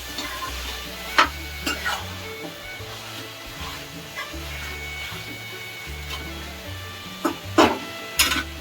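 Ginger being stirred into chicken curry in a pan: soft scraping and clinks of a spoon against the pan with a few sharper knocks over a faint sizzle, quiet and close, no talking.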